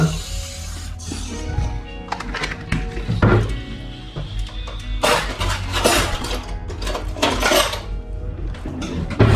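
Whipped cream being beaten by hand in a bowl for a simple strawberry dessert: close, irregular clinks and scrapes of a utensil against the dish, continuous throughout with no talking.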